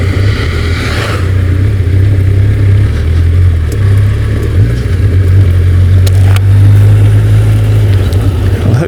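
Suzuki GSX-1300 motorcycle engine on a commute ride to work, a loud steady low drone with a brief rev dip midway, continuous and close with wind, no talking.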